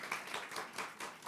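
Church congregation applauds two missionaries during Sunday worship, a broad wash of many hands clapping at steady strength with no voices on top.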